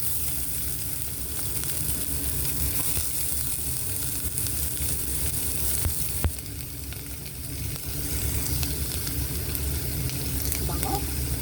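Onion sizzling steadily in a small amount of hot oil in a pan, a constant close frying hiss with a faint clink partway through.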